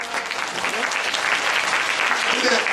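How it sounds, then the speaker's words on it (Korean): Dense, steady applause from an audience at a Korean church sermon, many hands clapping loudly and continuously for about three seconds with no pause. "박수."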